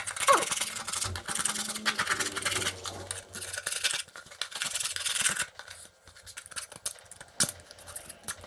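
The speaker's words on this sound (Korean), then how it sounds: "겉에 튀어나온 요런 까슬까슬한 것들을 일단은 완벽하게 깎아내는 작업을 할게요" A hand chisel scrapes rough, protruding bits off the surface of a sink cabinet, making close, irregular rasping and scratching strokes that come in bursts with short pauses between them.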